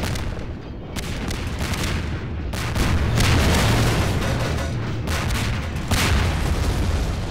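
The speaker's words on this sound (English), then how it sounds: "to kill him, you just have to shoot half of the rockets in this box at it" Rockets explode one after another in Half-Life 2 Episode 1, a run of loud, close booms and rumbling blasts with few gaps between them.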